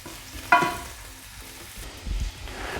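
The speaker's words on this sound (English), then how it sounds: "I'm using peanut oil because Ethan Chlebowski told me that's what I should be using. And I'm just dump my shrimp on there" Shrimp frying in peanut oil in a pan, a soft sizzle with a sudden clatter as they are dropped in, then a low bubbling hiss and a brief knock near the end.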